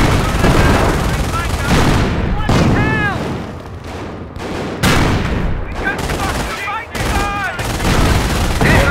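Dense, constant gunfire in the Company of Heroes WWII strategy game: loud overlapping rifle and machine gun bursts with booming hits, and unit voices calling out over the battle.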